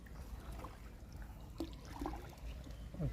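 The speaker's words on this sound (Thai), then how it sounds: "ก็มีน้ำไหลมาจากทงหน้าครับ" Water flowing in from a field into a pond where fish traps are set, a soft continuous trickle and gurgle with occasional small splashes, fairly close and quiet, with no talking.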